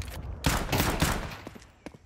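Gunfire in Counter-Strike on FACEIT: a quick run of close, sharp shots in rapid succession, then a few fainter scattered clicks and footsteps.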